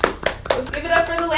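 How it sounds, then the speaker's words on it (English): A few people clap briefly for a first woman guest on a podcast, several quick close claps mixed with speech and laughter. "so applause on that"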